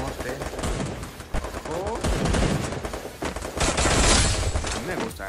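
Rapid bursts of XM8 rifle fire in the Free Fire video game, loud repeated volleys across the stretch with someone talking over them.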